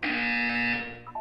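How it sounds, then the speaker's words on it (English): A harsh electronic buzzer in a Portal 2 test chamber, sounding one loud sustained blast that fades out after about a second, heard alone. "You will hear a buzzer. When you hear the buzzer, look up at the ceiling."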